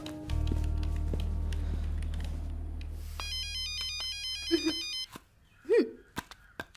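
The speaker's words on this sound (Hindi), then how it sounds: "बार बार किसका कॉल आ रहा है?" An incoming call rings on a phone as a short bright ringtone melody over a low hum, followed by a few faint taps and clicks.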